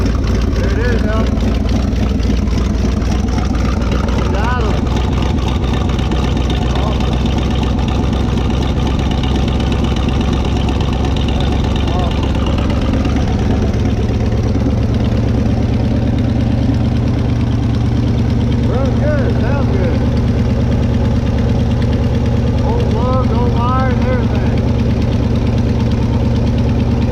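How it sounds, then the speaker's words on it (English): An abandoned 1977 Chevy K20 pickup engine, run after sitting over ten years, idles with a steady low rumble and faint knocking throughout, loud and close, while people talk over it. "at least we got to hear it run and it idles."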